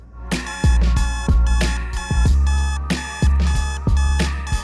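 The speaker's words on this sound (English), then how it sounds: "I set my alarm." A loud, repeating alarm clock ringing in bursts about once a second, each ring bright and tonal, continuing steadily with no voices.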